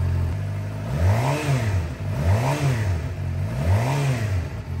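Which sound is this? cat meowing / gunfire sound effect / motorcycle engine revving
motorcycle engine revving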